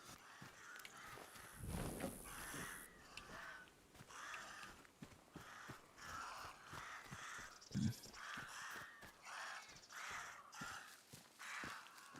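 Crows cawing in a video game, repeated harsh calls spread across a continuous ambient bed with occasional footstep-like thumps and a louder burst early on, no talk.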